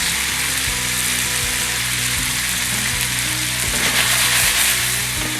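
Parsley, dill and asparagus sizzle loudly in butter in a hot pan, a dense, steady hiss close up with faint low clicks underneath and no voices.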